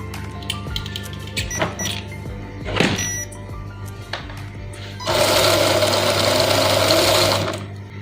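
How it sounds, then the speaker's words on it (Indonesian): The motor of an Austar clone of the Axial SCX10ii RC crawler, running on a 2S battery, gives short clicks and whirs before surging into a steady, loud, high whine for a couple of seconds, then easing off. "Sekarang saya akan coba dulu memakai baterai 2S. Kita lihat tenaga dari motornya."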